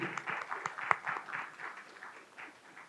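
An audience applauds at a political speech in a sequence of soft, distant claps that trail off, with no voices over them.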